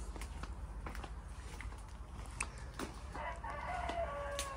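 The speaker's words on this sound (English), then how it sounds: "I'm going to take this out to the chickens." Backyard chickens cluck in short, scattered bursts while a rooster crows clearly near the end, all fairly close and moderately quiet, with a few footsteps and light rustling in between.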